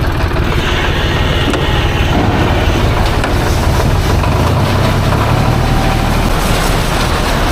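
A loud, steady 40-horsepower tractor engine rumbles and drones throughout while unloading corn, with heavy low-end vibration and mechanical clatter, close by and uninterrupted.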